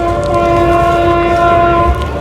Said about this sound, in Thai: แล้วรถไฟข้ามไปลาวแล้วค่ะ